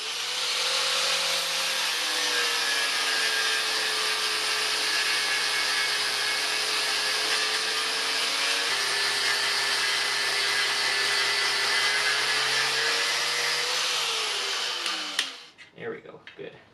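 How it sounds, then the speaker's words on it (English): A steady, loud power-tool whine with a harsh grinding hiss as rivets on a car's cross brace are ground down during a V8 Triumph GT6 build, running continuously before cutting off into a few clanks. "remove the cross brace by grinding down the rivets"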